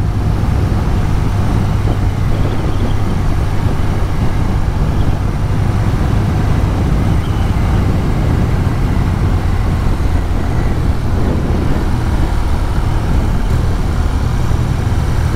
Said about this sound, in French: son de l'échappement avec le petit retour quand tu mets un petit coup de shifter.